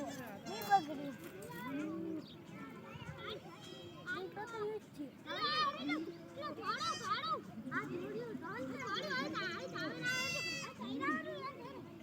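Baby goats bleat repeatedly in short wavering calls, some close and some farther off, while children and adults chatter and talk over and between them.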